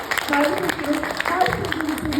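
Guests at a Turkish civil wedding ceremony clap in a scattered, fairly loud burst while an officiant keeps talking over the applause.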